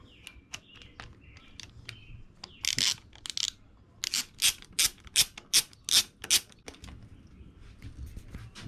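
Tool work on a part of a 1989 Harley-Davidson Softail during a brake light repair: a run of sharp, close ratcheting clicks and metallic taps, a short burst midway and then evenly spaced bursts.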